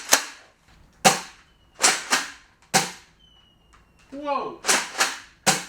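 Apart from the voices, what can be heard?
Nerf Roto Fury blaster firing mega darts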